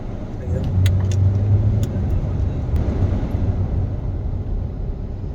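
Road traffic heading to Sabarimala in Kerala, heard from inside a moving car as a steady, loud engine and tyre rumble, with soft knocks and rattles on top.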